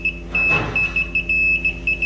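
A continuity tester on a 12V 15A relay gives a loud, high electronic beep that repeats in short bursts, about eight in quick irregular succession, over a low steady hum and one brief rustle.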